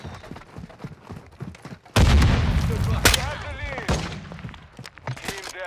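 A sudden heavy grenade blast in a team deathmatch shooter game, followed by a sustained roar with a couple of sharper cracks. Faint voices and game sounds sit underneath before the blast.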